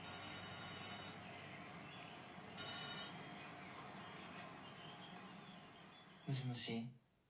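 A telephone rings in short bursts of bright electronic trills, quiet and partly buried under voices and music, with a louder burst near the end.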